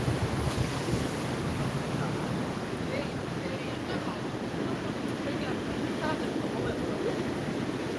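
Sea waves wash steadily along a seaside walkway on the Samcheok coast, a constant, fairly close surf roar mixed with wind buffeting the microphone.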